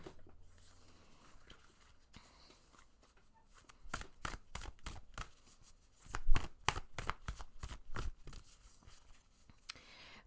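Oracle cards being shuffled by hand: soft, close riffling and slapping bursts in quick uneven rhythm, growing busier midway, over a quiet background.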